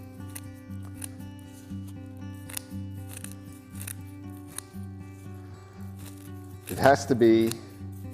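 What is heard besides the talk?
scissors cutting plant root ball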